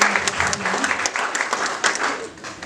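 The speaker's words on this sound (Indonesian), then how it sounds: "Boleh memberikan aplaus." Audience applause at an indoor community event in Manokwari, West Papua: steady, dense clapping from a crowd, continuous throughout with a few louder peaks, murmuring voices faintly underneath.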